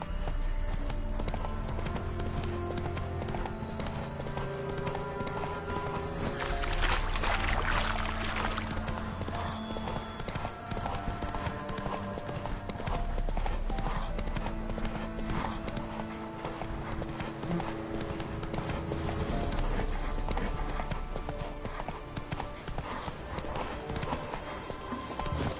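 Roach the horse trotting in The Witcher 3, steady rhythmic hoof clip-clops continuing over game music and ambience, with occasional character voices.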